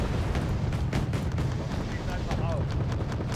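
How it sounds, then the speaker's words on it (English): Mortar fire in the video game Wargame Red Dragon: a dense, continuous barrage of rumbling blasts and crackling impacts. A voice talks over it. "Of course, the mortars are coming in again."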